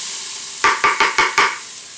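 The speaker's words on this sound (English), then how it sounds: "Now you'll saute these for a few minutes, pretty much till they soften and turn a golden color." Garlic cloves and onion sizzle in oil in an Instant Pot, a soft steady hiss broken by five quick, evenly spaced scraping stirs close by.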